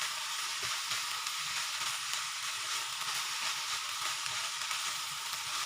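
White rice stirred into a meat mixture simmers in a pan, giving a steady, even frying sizzle and hiss throughout, close and moderately loud, with no talk over it.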